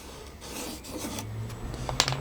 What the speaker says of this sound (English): So back on with the sander. It's only 6mm balsa this is, but it's end grain on.